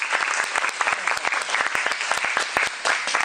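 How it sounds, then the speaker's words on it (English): An audience claps for Charlotte, a performing dog doing tricks on stage, with sharp, distinct hand claps from a fairly small crowd forming a busy, uneven rhythm throughout. "if you keep clapping for her"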